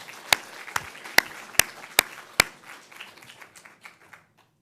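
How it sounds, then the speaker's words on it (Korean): Korean church congregation at a Sunday service clapping to encourage a newlywed bride and groom, opening with a row of sharp, evenly spaced loud claps before breaking into a brief scattered round that tapers to silence. "박수로 격려하겠습니다."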